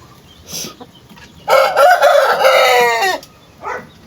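Chickens in a backyard pen give soft clucks, then a rooster lets out one loud, close crow lasting over a second, and a brief cluck follows.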